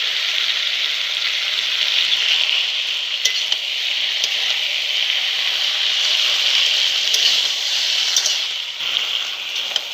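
Spices, cumin paste and vegetables sizzle steadily in a hot pan, a loud continuous crackling hiss with scattered pops and a few scraping stir sounds, with no talk.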